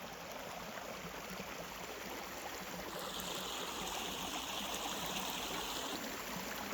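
A village stream flows along a rural path, a faint, steady rushing wash of water heard at some distance, continuous and without talk.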